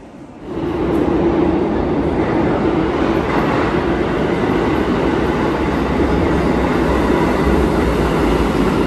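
Metro train at an Almaty subway station, a loud continuous rumble and rolling roar of carriages with a steady high hiss, sustained close by throughout with no talk.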